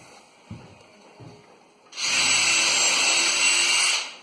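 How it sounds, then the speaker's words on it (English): A few light knocks come first, then a handheld power drill starts and runs loud and steady for about two seconds before stopping. "I can't stop drilling."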